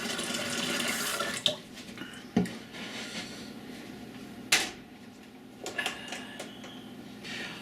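Kitchen tap water pouring into a pot to boil for lasagna, a continuous hissing flow at first, followed by a few clunks and knocks of pots or cupboards nearby, with no speech.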